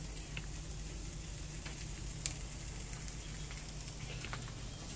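Onions fry on a Weber kettle grill beside cut-up kielbasa, a faint, steady sizzle with scattered small crackles and pops, no talking.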